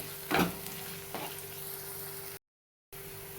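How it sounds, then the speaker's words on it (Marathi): Spices with a bay leaf and a piece of cinnamon sauté in a pan for a village-style egg curry, a soft, close sizzle over a low hum, with two stirring scrapes and a short total dropout near the end. "हे तेजपत्ता पण टाकते त्याच्यातच त्यात आपण सगळं परतून घेऊया"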